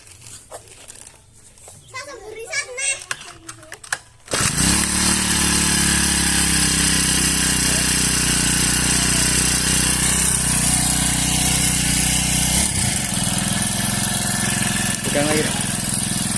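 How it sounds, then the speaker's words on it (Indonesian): A small engine on a sprayer with a modified nozzle restarts after a few seconds of quieter handling noise, then runs loud and steady at close range with a raspy, continuous drone. "Oke, kita hidupkan lagi engine-nya."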